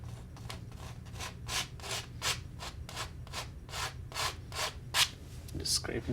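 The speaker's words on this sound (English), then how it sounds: "Just scraping some of that shadow color down the side." Palette knife scraping shadow-colored paint down the side of a mountain on a landscape painting, heard as a close series of about a dozen rhythmic rubbing strokes, steady and moderately loud, with no talk.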